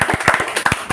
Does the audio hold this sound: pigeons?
no